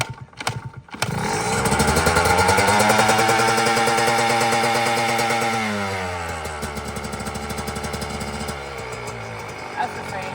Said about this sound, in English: Let's see if it revs really high.